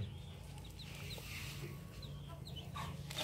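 A hen clucks softly and repeatedly while feeding and sharing food with her young chicks, with faint high chick peeps scattered over a steady low background hum.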